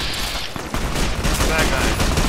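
Rapid gunfire rattles through a firefight in Fallout New Vegas, overlapping bursts and shots stacking into a dense fusillade, loud and close, with a short lull early on before the shooting resumes.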